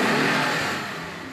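Early 1970s Alfa Romeo Alfasud with a compact 1.2-litre boxer engine accelerating, a steady loud engine drone close by that eases slightly toward the end of the brief stretch, with no talk.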